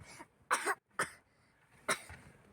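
A child coughs in short bursts, a few separate hacking coughs spaced apart, with quiet pauses between.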